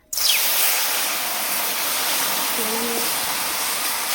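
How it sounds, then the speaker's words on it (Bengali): About three cups of water poured into a pan of freshly fried semolina for halwa, giving a close, steady rushing hiss that starts abruptly and runs unbroken. "এবার সুজিটার মধ্যে আমি জল ঢেলে দেবো।"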